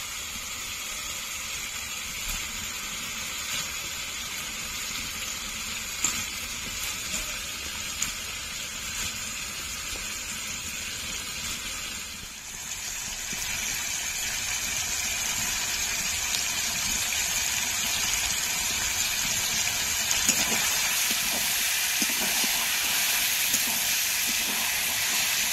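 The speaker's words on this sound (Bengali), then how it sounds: "মশলাটা ভালো করে কষানো হয়ে গেছে, এখন মাংসগুলো দিয়ে দেবো।" Chicken pieces going into a pan of well-fried spice masala for a home-style chicken curry, giving a steady broadband sizzle and hiss that swells louder about halfway through and carries on without talk.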